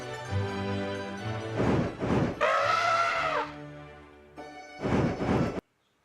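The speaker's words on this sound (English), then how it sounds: "Wing flap, wing flap. Elephant noise." Dragon wing flaps and an elephant-like trumpeting cry from the video game Eiyuden Chronicle: Hundred Heroes. Two loud whooshing flap bursts are followed by a drawn-out bellow, then another pair of flaps, all over quiet background game music.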